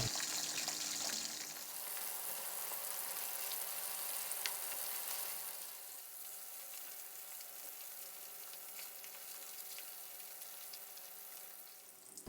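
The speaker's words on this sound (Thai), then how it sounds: "ใส่ปลานิลลงไปทอดกรอบเลยครับ ให้เราทอดปลานิลให้สุกเหลืองกรอบกันเลยนะครับ" Pieces of tilapia deep-frying in hot oil, a steady dense crackling sizzle that stays loud and close throughout with no voices over it.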